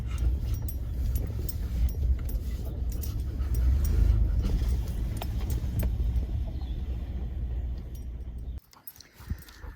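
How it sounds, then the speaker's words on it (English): A truck backing up to unload lime and fertilizer at a food plot camp, its steady engine rumble close and loud with faint jingling and a dog nearby, cutting off abruptly near the end. "I'm gonna back the truck up right there and unload it."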